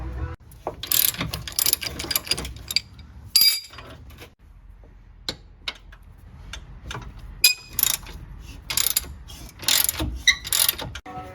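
Metallic wrenching on the rear drive shaft and U-joint of a 2014 Can-Am Outlander XT 500 ATV: scattered ratchet clicks, clinks and tool knocks come in irregular bursts, close up, with no talking.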